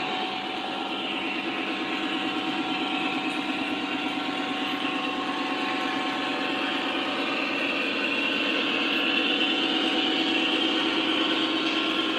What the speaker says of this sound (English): the train that's running right now is a Lionel Burlington Northern SD40-2